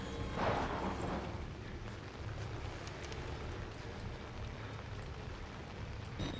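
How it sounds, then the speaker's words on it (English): Steady, dense hard rain hiss in an indie horror video game fills the scene at moderate level, a continuous wash of noise with no talking. "pitch black hard rain"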